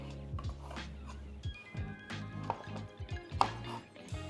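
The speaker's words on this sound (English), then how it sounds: "So I'm just going to top and tail these onions." A knife tops and tails onions on a chopping board in a home kitchen, giving a handful of separate close, crisp taps and thunks in an uneven rhythm.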